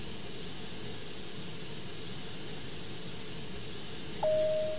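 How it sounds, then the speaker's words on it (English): A Boeing 727-100 jet engine starts in a flight simulator game with a steady, broad roar that holds evenly throughout, and a thin tone sounds briefly near the end. No one speaks. "we technically want to start engine 2 first, because that'll provide bleed air to the other two"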